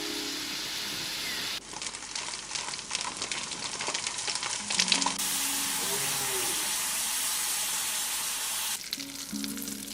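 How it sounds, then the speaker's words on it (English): Bacon frying and sizzling, a dense crackling hiss that shifts in intensity across a few sections, with faint tonal sounds underneath. "That one's definitely frying bacon."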